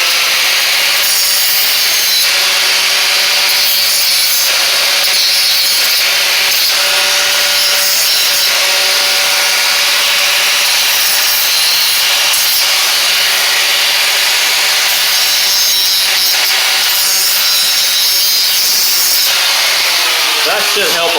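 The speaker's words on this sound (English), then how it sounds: "I know this is a cutoff wheel, but I'm going to kind of grind the shoulder of this off a little bit." A cutoff wheel grinds down a metal shoulder on a Huskee Supreme riding mower, giving a steady high-pitched abrasive whine with pulsing rasps as the wheel bites, loud and close throughout with no talk.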